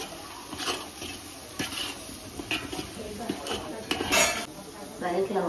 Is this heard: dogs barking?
no